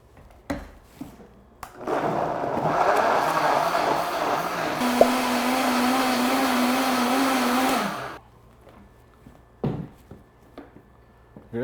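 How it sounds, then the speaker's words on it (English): Countertop blender whirring steadily for about six seconds as it purees cucumber, ginger, mint, lime and water, a loud close motor drone that cuts off abruptly, framed by clicks and knocks before and after. "And now we blend until smooth enough."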